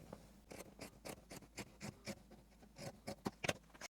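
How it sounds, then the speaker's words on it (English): Pinking scissors trim a fabric edge in a run of about a dozen crisp, quiet snips at a steady cutting rhythm, close by and with no talking. "Now I can trim it up pretty with the pinking scissors."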